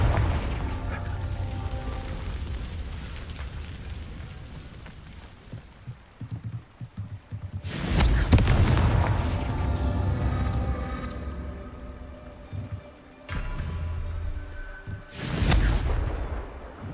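Confringo fire-blast spell explosions in the Hogwarts Legacy video game: two loud, broadband booming blasts, one near eight seconds and another near fifteen, over a low rumbling game soundscape.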